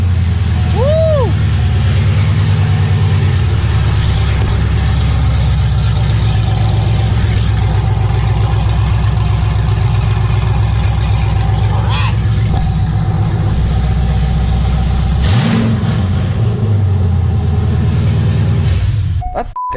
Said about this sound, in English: So obviously we're gonna start it up open headers.